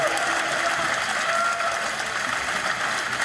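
A bowling crowd at a PBA stepladder final in Missouri claps steadily in a dense, continuous wash of applause, with a commentator talking faintly underneath.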